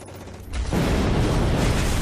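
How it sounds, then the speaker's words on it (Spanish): A German MG-42 machine gun in a wartime battle scene opens up after a brief quieter lead-in, becoming a loud, dense, continuous roar of rapid fire. "disparos con su MG-42."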